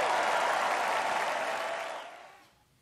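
A crowd at a Republican National Convention speech applauds and cheers in a dense, loud wash that holds for about two seconds before fading out.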